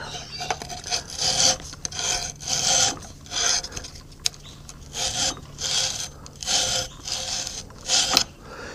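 Abrasive paper of around 120 to 240 grit, stuck on a piece of aluminium, rasps against a foundry moulding box in repeated bursts of rubbing strokes with short pauses between them, close and fairly loud.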